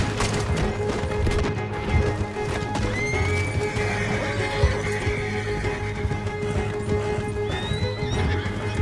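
A horse gallops hard and neighs during a chase in the video game Red Dead Redemption 2, with steady pounding hoofbeats under a continuous loud wash of game noise.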